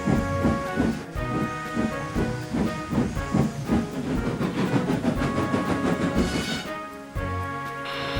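A train rumbles along the tracks with rhythmic clattering and hiss, loud and close, continuing throughout.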